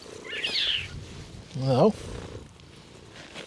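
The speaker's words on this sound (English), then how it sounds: "You're a very friendly cat." The station cat at Parkhead station purrs softly close by and then lets out one clear, rising meow, while a person briefly greets it.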